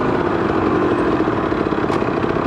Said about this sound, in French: On s'éclate quand même avec cette moto